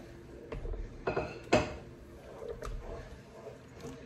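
A spoon scrapes and knocks against a pan while a jelly leche flan mixture with melted butter is stirred, giving a few close metallic clinks and scrapes over a steady low background hiss.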